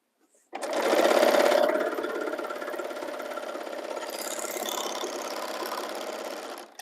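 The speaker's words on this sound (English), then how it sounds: "it chain stitches as well as serges the edges for me in one fell swoop" A serger sewing machine chain-stitching and overlocking fabric edges, a fast steady mechanical buzz that starts abruptly, runs nearly seven seconds at even loudness, then stops.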